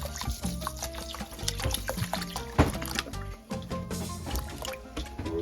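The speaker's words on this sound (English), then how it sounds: "So I just add water until the rice is covered." Water poured into a pot of uncooked rice while cooking picadillo in an RV kitchen, a continuous splashing, trickling pour with clinks and drips.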